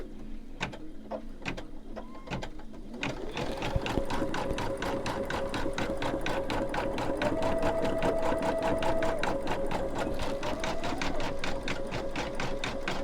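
An embroidery machine stitches out the fringe of a snowman's scarf on a mug rug, its needle chattering in a fast, steady mechanical rhythm that rises in speed and stays loud and close, with a brief faint hum early on.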